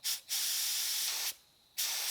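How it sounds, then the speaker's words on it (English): A spray gun sprays sealer onto a Nissan 300ZX painted outdoors, three loud, close hissing bursts, the long middle one lasting about a second, separated by brief pauses. "We've got the sealer in the gun. Time to spray it."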